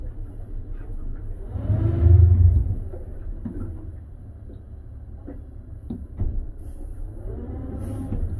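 The engine of a 2019 Hewescraft Ocean Pro boat runs with a low, steady rumble, swelling briefly as it revs early on, then settling back to a throbbing idle.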